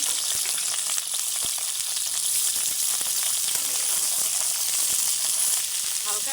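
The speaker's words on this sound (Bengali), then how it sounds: "এরপর ভাপিয়ে রাখা আলু ফুলকপি একটু হালকা করে ভেজে দিব।" Steamed potato and cauliflower fry lightly in hot mustard oil in a kadai. A bright, continuous sizzle and hiss crackles close by, with small spattering pops and the occasional stir.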